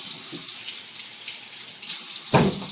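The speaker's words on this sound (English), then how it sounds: "put water in the pot till it's about just covering the potatoes" Tap water runs steadily into a kitchen pot to cover potatoes, a continuous close splashing stream with a brief louder clunk near the end.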